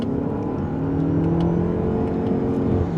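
A 2026 Toyota RAV4 GR Sport hybrid accelerates from second gear in combined mode, its engine giving a steady, rising drone with road noise, heard alone without talk.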